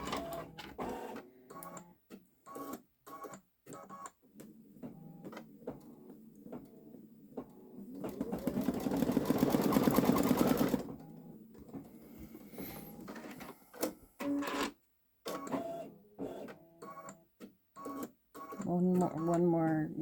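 A Babylock Solaris Vision embroidery machine stitches a large design, its rapid mechanical whir rising to a sustained loud burst midway, with intermittent clicks and someone talking on and off around it.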